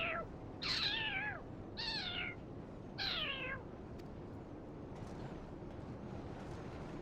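A cat in Final Fantasy XIV meows four times in quick succession, each call bright and clear over a low ambient game backdrop, followed by quiet background sound.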